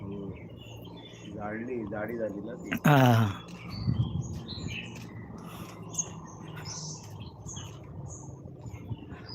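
Birds chirp and tweet at a village water spot on a quiet morning, with short bright calls scattered across the clip, partly under a man's speech and some nearby handling noise.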